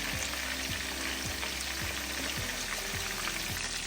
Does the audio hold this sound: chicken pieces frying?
yes